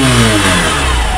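A Hero Passion Pro BS6 motorcycle engine revs loudly and steadily up close, a continuous mid-pitched engine drone with rising throttle and no talk over it.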